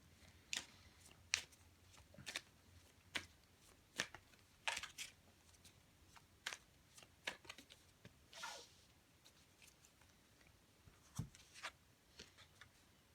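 Tarot cards being shuffled and drawn in a quiet room, a string of soft, separate card snaps and slides across about thirteen seconds, with one longer riffle near the middle.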